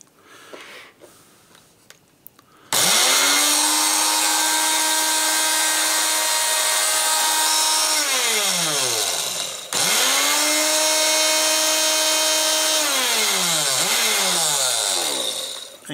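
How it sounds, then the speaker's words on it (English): An electric grinder pulverising dried chilies into chili powder: a loud high motor whine that starts abruptly, runs steadily, winds down, restarts and slows again near the end, heard close with no talk. "Now I'm going to grind this up one more time."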